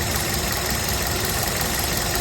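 A 2012 Kia Rio manual idles up close with a constant, smooth engine hum and a light mechanical tick, loud and steady throughout with no talking.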